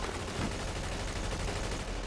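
Automatic gunfire in the video game The Division, a dense, continuous burst of loud shots filling the whole stretch with no pause.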